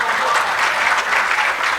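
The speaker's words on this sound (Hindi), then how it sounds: "तो ढंग की यदि सुनना है तो तालियां बजाओ प्यारे" Steady, dense applause from a live audience at a Hindi comic poetry recital fills the whole stretch, loud and continuous without a break.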